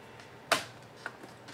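A sharp plastic click as the tab on an Alienware laptop's hard drive caddy is pulled free, followed by a couple of fainter ticks, close and quiet with no talk.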